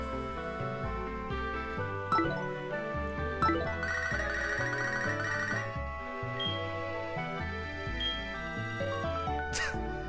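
An electronic phone ring chimes repeatedly inside the Pokémon SoulSilver video game, a bright looping melodic ringtone over steady game music throughout, with no talking.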